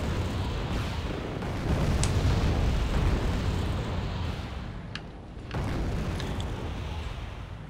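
Bombs burst during air raids in the modern warfare strategy game Wargame Red Dragon, a continuous rumbling wash of explosions with a few sharp cracks and a brief dip in the din partway through.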